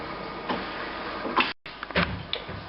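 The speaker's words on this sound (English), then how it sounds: "Hear the machine firing up. What it's going to do now, it will print a configuration page." An HP DesignJet 430/450 large-format plotter starts up and begins printing a configuration page, giving a series of close mechanical clicks, ticks and short whirring carriage movements with a brief gap midway.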